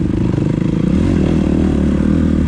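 Dirt bike with a new motocross suspension setup riding a muddy woodland trail after a storm, its engine droning loud and steady throughout with clattering and scraping, no voices.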